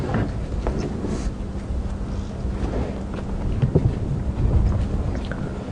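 Steady wind rushes and buffets outdoors on a safari drive at Djuma Game Reserve, a low continuous roar with gusty swells and microphone rumble, no voices.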